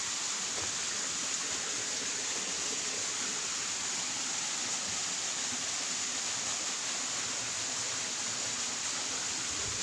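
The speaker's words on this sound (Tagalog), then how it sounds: "Malakas ang tubig mga bro." Steady, dense rushing water fills the whole stretch, a constant broadband roar like a strong stream or runoff close by, with no voices.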